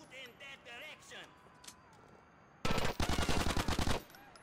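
Automatic gunfire in the video game GTA: The Ballad of Gay Tony, a loud rapid burst of about a dozen shots lasting over a second, following shouted in-game voices and a quieter stretch.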